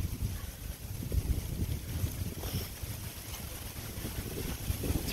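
Wind buffets the microphone outdoors at a metal-detecting dig site, a steady low rumble and gusty roar running throughout with no talking.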